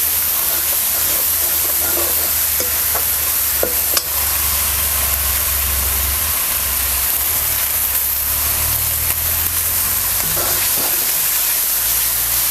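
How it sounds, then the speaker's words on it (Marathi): Masala spice mix for Kolhapuri misal, with onion already fried in, sizzles loudly in a pan while a spoon stirs and scrapes through it, a steady close frying hiss broken by occasional clinks. "आणि हे मसाला परताला काय जास्त वेळ लागत नाही"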